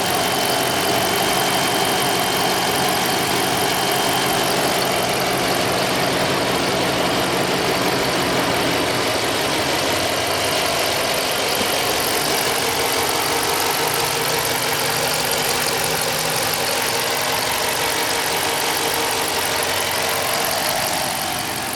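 Steady close-up idle of a 2016 Dodge Charger 5.7 HEMI ex-Nevada Highway Patrol car, a constant low rumble that shifts slightly in tone partway through and runs alone without voices.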